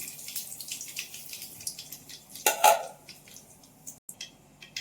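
Mustard seeds and cumin dropped into hot oil in a pan on a stove, giving a busy crackling sizzle with rapid pops and one louder burst of spattering, close and without talk.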